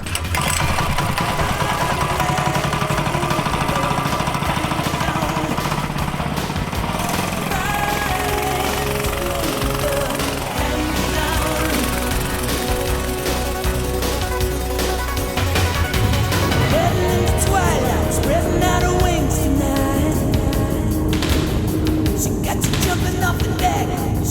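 Maverick 98cc mini bike engine revving steadily while being ridden, a loud continuous buzzing drone that rises and falls in pitch throughout, with no pauses.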